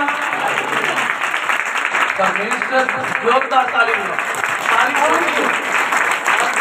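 A church congregation applauds at a testimony service, with steady dense clapping filling the space while a voice speaks over it.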